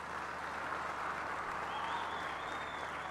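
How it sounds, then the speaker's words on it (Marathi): A crowd at a Dahi Handi practice camp in Alibag applauds the taluka's first pro Govinda player, with sustained, dense clapping from a sizeable gathering heard at some distance for a few seconds. "याच्यासाठी जोरदार टाळ्या होऊन द्या"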